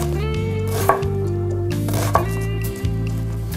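Knife chopping onion on a board: a few distinct, separate cuts, close and fairly crisp, set against sustained background music with no voice.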